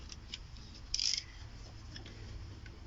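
A utility knife blade prying at the plastic casing of an electronic bedside lamp gives one short, close scrape about a third of a second long against a quiet room hum.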